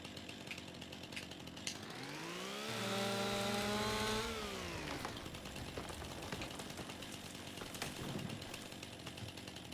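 Chainsaw cutting trees in the Farming Simulator 25 game: a rising, steady motor whine swells for a couple of seconds, holds, then drops back into a low background hum, with no voices.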